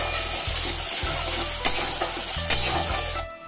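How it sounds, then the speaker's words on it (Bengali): Chicken steak sauce sizzles in a pan while a utensil stirs it, producing a steady frying hiss with soft repeated scraping taps, close and alone with no talk. "এবার ভালো করে মিশিয়ে নিচ্ছি।"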